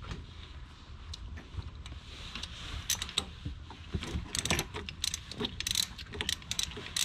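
A ratchet clicks in quick, faint bursts while removing the last bolt on a Mazda Miata shifter during a rebuild, with scattered metallic ticks and handling noises.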